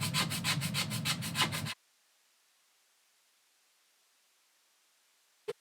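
A scraper is pushed across a surface to lift old paint in a rhythmic series of close, gritty scrapes lasting under two seconds. Near-silence follows, broken by a single faint knock at the end.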